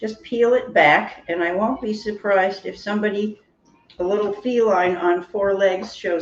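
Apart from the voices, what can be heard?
No everyday noise stands out behind the speech.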